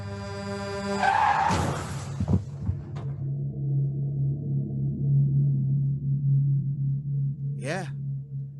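A vehicle skids and a dump truck crashes in an audio drama. A screeching slide gives way to a heavy impact and scattered thuds, then a low steady hum lingers, with a brief sharp squeal near the end.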